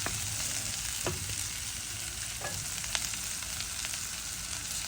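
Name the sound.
onions frying in a pan for fenugreek curry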